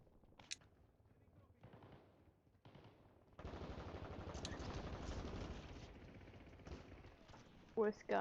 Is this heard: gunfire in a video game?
yes